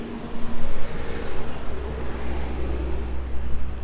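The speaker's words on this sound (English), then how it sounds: "Another loud truck." A loud truck passes on a road in Delray Beach, a broad rumbling roar that swells early and then holds as steady traffic noise, with no talking.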